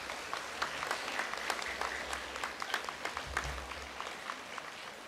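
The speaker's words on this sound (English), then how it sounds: "Let's give them one last round of applause." School audience clapping for the year's student leaders at a junior school celebration, a steady, moderately loud round of applause with scattered sharper claps throughout, no speech over it.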